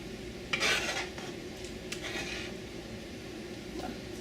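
A slotted spoon mashes cooked mulberries in a pot, giving soft, wet scraping and squishing strokes with a few metallic taps against the pan.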